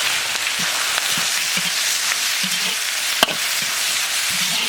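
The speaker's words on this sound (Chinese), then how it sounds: "木耳炒起以后，下入青红辣子，来点花椒粉、姜粉" Pork stir-fried with wild black wood ear mushrooms, green and red chilies, Sichuan pepper powder and ginger powder sizzles steadily in a hot pan, with soft scraping and the odd sharp tap of a utensil.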